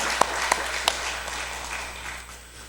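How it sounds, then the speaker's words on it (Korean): Church congregation at a dawn prayer service claps for God, a few sharp distinct claps opening a softer, fading spread of applause in a reverberant hall. "하나님 앞에 영광 박수 올리겠습니다"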